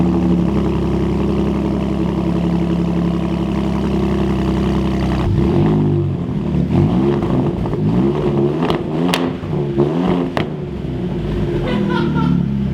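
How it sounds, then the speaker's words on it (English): A truck engine fitted with an AWE 2FG exhaust idles steadily with a deep rumble, then revs in several quick blips, loud and close, alone. "So that was the AWE 2FG exhaust."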